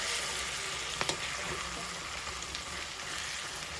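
Fish curry simmering in a pan just after water is added, giving a steady broadband sizzle and bubbling hiss throughout, with a couple of faint clinks near the start and no talking.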